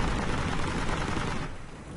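Sustained, dense gunfire in the video game Heroes & Generals, a loud continuous roar of overlapping shots and blasts that thins out and fades slightly toward the end, with no clear speech.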